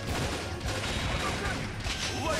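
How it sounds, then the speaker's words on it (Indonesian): Rapid laser gunfire bursts in the Metal Slug Awakening video game, dense and continuous over game sound effects, with a voice talking underneath. "Ini tembakan laser."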